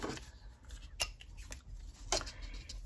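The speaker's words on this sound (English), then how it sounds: "Do I want to cut the washi underneath?" Sharp scissors snipping washi tape in a paper planner, a few quiet crisp cuts spread over a couple of seconds against faint handling rustle, close and soft.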